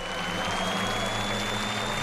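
Rally spectators at Rally Argentina applaud in a steady, dense wash of clapping that fills the whole stretch, with crowd murmur beneath and no clear speech.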